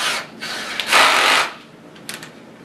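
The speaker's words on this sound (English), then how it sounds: "place one of the mandrels into your power drill" A power drill spins a mandrel in short bursts, a whirring buzz that starts, holds for about half a second and stops, with a brief final blip, close by.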